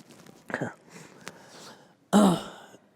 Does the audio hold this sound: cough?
yes